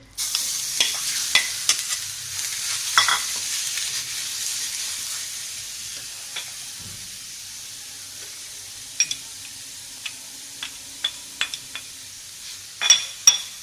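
Dal kachori filling of ground lentils with cumin powder cooking and being stirred in a hot frying pan, a low steady sizzle with scattered scraping clicks of the spoon, growing sharper and more frequent toward the end.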